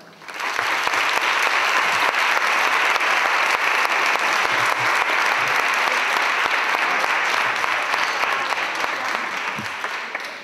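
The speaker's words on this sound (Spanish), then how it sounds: "pido un fuerte aplauso para ellos dos" An audience at a music school's closing ceremony in Cortegana gives two music classroom monitors a loud, dense round of applause that holds steady for about ten seconds before easing off.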